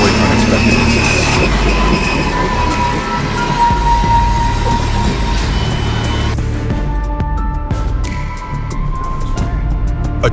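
A coal train rolls along a railway track, a loud continuous rumble of wagons with metallic squeals and clattering wheels, shifting tone partway through as the cars pass close by.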